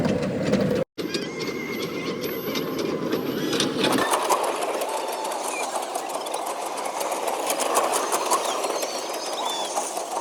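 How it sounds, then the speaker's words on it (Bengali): A small toy train ride in Pakur runs with a steady mechanical whir and rattle that holds throughout, heard up close with a faint, busy crowd around it. "মারিসা এখন ট্রেনে চাপবে, এই যে টয় ট্রেনে।"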